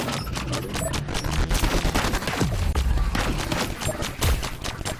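Rapid bursts of the Luma gun firing in the VR shooter Blaston during a championship match, quick dense volleys of sharp cracks layered over swooshing effects and low thuds.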